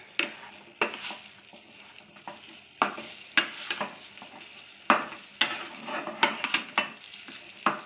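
Raw semolina being mixed with ghee in a pot for rava gulab jamun, repeated scraping strokes of a spoon against the pan in an uneven rhythm with sharp clinks, close by.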